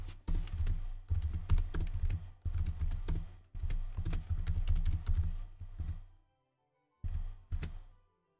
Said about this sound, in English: we can confirm this by typing it into Agda.